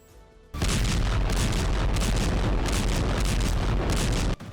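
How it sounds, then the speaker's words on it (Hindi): Heavy artillery fire from a Hezbollah artillery unit, a sustained roaring barrage of booms that bursts in loud and continues without pause, with no voices over it. "पहली बार हिजबुल्लाह ने अपनी आर्टिलरी यूनिट का अटैक सबके सामने"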